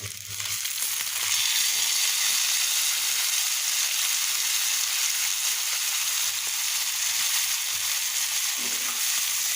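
Boiled Malabar spinach fried in a pan with browned onion and garlic, giving a steady, loud, continuous sizzle that holds for the whole stretch with no talking.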